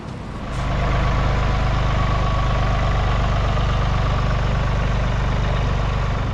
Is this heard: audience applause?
no